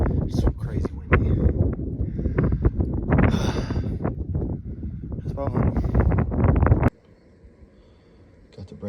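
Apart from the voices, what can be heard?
strong wind in the badlands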